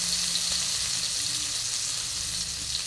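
Onion frying in a pot gives a steady, close sizzle with broadband crackle and no talk, holding an even level throughout.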